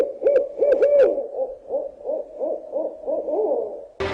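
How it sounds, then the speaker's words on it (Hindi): Owls hoot repeatedly on a dark, quiet night with a light breeze, a steady series of mid-pitched hoots at moderate distance, ending in a sudden sharp noise. "उल्लू भी बोल रहे हैं"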